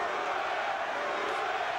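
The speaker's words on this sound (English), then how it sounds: "Crowd enjoying this one." Arena crowd at the 1999 Lennox Lewis vs Evander Holyfield heavyweight boxing rematch, a dense continuous roar of cheering and shouting filling the space, fairly loud and sustained without breaks.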